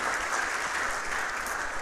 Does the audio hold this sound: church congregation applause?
yes